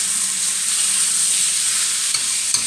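Catfish pieces stir-fried in a wok with chili and garlic give a steady, loud sizzle throughout, broken by a couple of faint clicks of the stirring utensil near the end.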